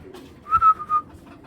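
A pair of pigeons kept by a breeder gives a single brief call, a short tonal sound heard close by against a quiet background.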